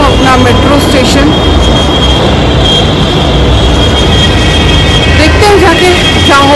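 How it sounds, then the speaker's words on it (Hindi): A metro train pulls into a station with a loud, continuous rumble and hiss filling the platform, while voices talk underneath. "और ये आ गई हमारी मेट्रो।"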